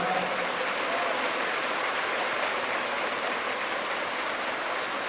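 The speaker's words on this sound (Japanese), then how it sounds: "静正光様に改めて大きな拍手をお願いいたします" A basketball arena crowd at a bj league playoff game between Iwate Big Bulls and Akita Northern Happinets applauds steadily, a dense even wash of clapping that holds without a break throughout.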